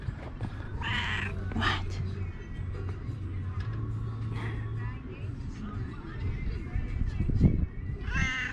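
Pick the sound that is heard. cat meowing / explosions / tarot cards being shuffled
cat meowing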